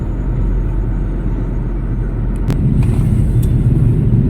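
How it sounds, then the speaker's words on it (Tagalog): Heavy traffic on EDSA in the Philippines forms a dense, continuous road rumble of cars and motorbikes, with a few sharper passing noises rising briefly out of the steady low drone. "Ganon, katindi ang traffic dito sa Edsa, guys."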